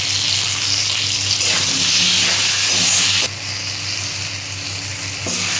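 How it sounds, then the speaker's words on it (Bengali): Pieces of pointed gourd fry in hot oil with salt and turmeric, giving a loud, continuous close sizzle and hiss. Its intensity shifts partway through, as if the pieces were stirred. "লবণ হলুদ দিয়ে পটলটা ভেজে নিচ্ছি।"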